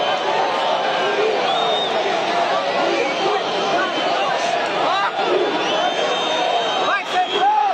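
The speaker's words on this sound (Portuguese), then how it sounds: "nos estádios de futebol, o veredito popular tem sido claro: vaias e gritos de "vai ser preso"" A large football stadium crowd of Palmeiras supporters at a Campeonato Paulista match, booing and shouting in a dense, continuous roar of many voices, with chanted cries rising near the end.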